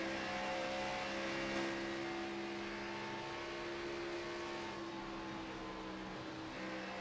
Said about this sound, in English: Let you hear the roar of the engine a little bit.